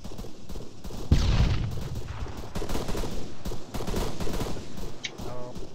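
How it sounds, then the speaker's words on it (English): Booming shots in Arma, fired onto a waypoint, come through a dense battlefield mix: a loud blast near the start, then a steady stream of gunfire and distant explosions with no talk. "Well, Mortar, start shooting the waypoint 2."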